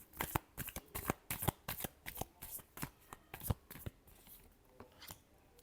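Tarot cards being shuffled by hand at close range, a rapid series of crisp riffling bursts in an uneven rhythm, loud and alone, thinning out toward the end.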